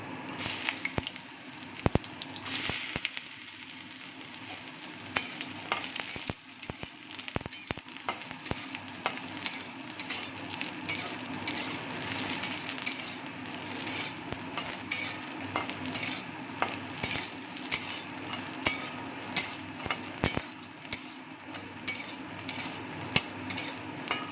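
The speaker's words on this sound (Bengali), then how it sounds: "তেলটা আমার গরম হয়ে গেছে, এবার আমি বড়িগুলো দিয়ে দেব।" Lentil dumplings (bori) fry in hot oil in a home kitchen, a continuous close sizzle broken by frequent sharp clinks and scrapes of a spatula stirring the pan, without speech.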